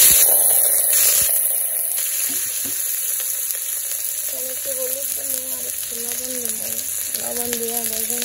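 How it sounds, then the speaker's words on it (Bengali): Cut potatoes fry in a little hot oil, giving a continuous bright sizzle that runs throughout, with a voice speaking over the frying in the second half. "তো আলুগুলা প্রথমে ভেজে নিব।"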